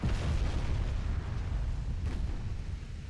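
A naval shell strikes a warship's stern in Ultimate Admiral Dreadnoughts, set among 1920 German big-gun ships, landing as a heavy, rumbling boom that rolls on for a few seconds and fades slightly.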